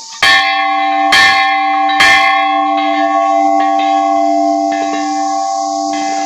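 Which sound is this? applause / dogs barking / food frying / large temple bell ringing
large temple bell ringing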